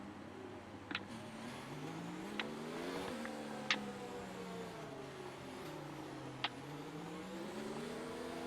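Mercedes F1 car on a slow formation lap at the Hungarian Grand Prix in the F1 2019 game: engine note rises and falls steadily with brief revving spikes, no talk.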